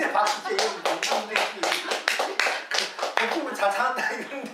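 An audience at a Buddhist Zen dharma talk claps in a crowd, a dense run of hand claps lasting several seconds, with speech mixed in.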